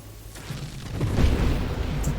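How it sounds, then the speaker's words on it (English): A grenade blast in the space shooter Nova Drift, a deep booming explosion that swells to a peak and then fades in a rumbling tail, with faint crackling game effects. "one grenade gets in there and the thing blows up"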